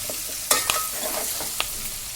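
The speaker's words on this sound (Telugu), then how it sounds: "మొత్తం మిక్స్ అయ్యి ఉప్పు పసుపు వాటి ముక్కలకి పట్టేంత సేపు కలుపుకొని" Brinjal pieces with salt and turmeric are stirred in a pan, a soft sizzle running beneath a few brisk scrapes and clinks of a spoon against metal, close by and with no speech.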